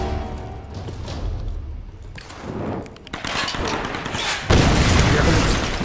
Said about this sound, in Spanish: disparan al barril para ver si la explosión me cazaba